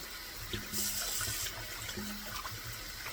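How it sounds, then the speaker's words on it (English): Cold water runs steadily from a tap onto hot cooked beets being readied for canning, a continuous close splashing wash with a few low gurgling swells and no voices. "I'm going to add a little bit of more cold water to them"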